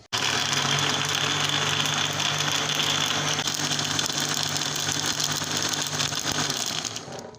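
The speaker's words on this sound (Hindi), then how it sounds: "पहले इसको हम ब्लेंड करेंगे" Blender whirring steadily as it blends falsa fruit with black salt and cold water, a loud continuous motor drone with a faint rattle, running for several seconds and tailing off at the end.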